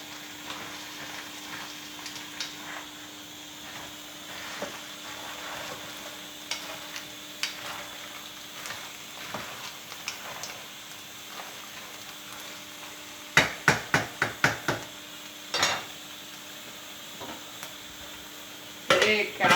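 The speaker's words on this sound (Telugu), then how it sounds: "బాగా మిక్స్ చేసుకోవాలి." Liver fry being stirred in a pan: a soft ongoing sizzle with scattered spoon scrapes, then a rapid burst of metallic knocks and clatters against the pan near the end.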